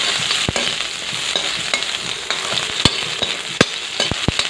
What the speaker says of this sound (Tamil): நல்லா வதக்கிக்கணும் வெங்காயம் பூண்டு